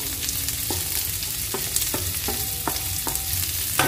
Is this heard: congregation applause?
no